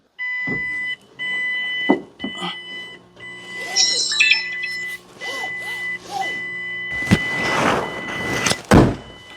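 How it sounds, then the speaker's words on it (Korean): Starting an e-Tobi electric commercial van: a series of electronic start-up chimes and steady tones sound from the cabin, with a few sharp beeps and clunks, ending in a louder burst of mechanical noise. "제가 한번 시동 걸어보겠습니다."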